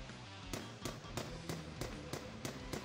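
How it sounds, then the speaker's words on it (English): The Rapid Shot Wind skill effect from a fantasy video game fires a rapid run of about nine sharp, evenly spaced bursts over a steady background hum, with no talking. "Here's the Rapid Shot Wind."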